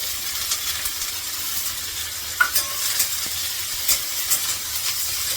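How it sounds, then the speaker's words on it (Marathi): Tomato, ginger and garlic lightly frying in a pan, a steady hissing sizzle with occasional sharp clinks and scrapes of a spoon stirring, no speech. "ते टमाटा पण टाकून देते त्याला खूप जास्त लालसर नाही करायचं मला फक्त थोडं भाजून घ्यायचं आहे"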